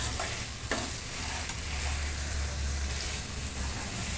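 Paneer stirred through veg dum biryani vegetables in a pan, a steady close sizzle and fry with soft scraping strokes and a couple of sharper spoon knocks, no voices.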